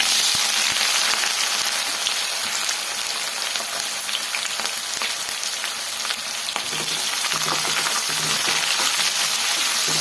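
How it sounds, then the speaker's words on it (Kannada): Chopped onions and curry leaves fry in hot oil for hotel-style capsicum rice, a loud, steady close-up sizzle with crackling spatters and occasional faint stirring scrapes, no talking. "ಈರುಳ್ಳಿ ಸ್ವಲ್ಪ ಕರಿಬೇವು ಸೇರಿಸ್ಕೊಳ್ಳೋಣ."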